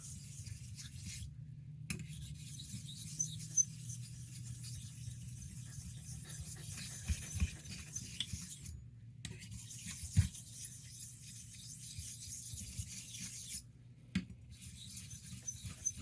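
A straight razor is honed in circular strokes on a 1k Chosera whetstone, a soft continuous rubbing and rasping close up, with brief pauses between passes.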